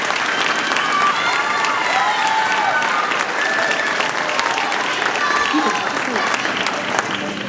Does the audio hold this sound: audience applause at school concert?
yes